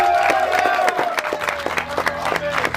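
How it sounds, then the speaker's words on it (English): A crowd claps and cheers, with scattered sharp hand claps over a general roar of voices. "So round of applause."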